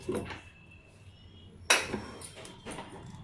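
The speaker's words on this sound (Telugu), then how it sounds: "కుక్కర్ అయితే చల్లారిపోయిందండి లిడ్ తీసేద్దాం" Pressure cooker lid lifted off after cooking chicken curry, a few sharp metallic clanks and knocks spaced apart in a quiet kitchen.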